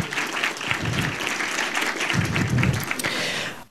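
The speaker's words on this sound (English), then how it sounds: "I think we can all clap and say thank you." An audience at an opening plenary session claps steadily and fairly loudly throughout, a dense wash of applause from many hands with a slight swell near the end.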